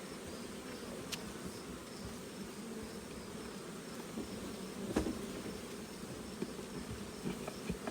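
Honey bees buzz steadily and densely at a hive holding a winter nest in August, a continuous low drone with occasional louder passes of individual bees close by.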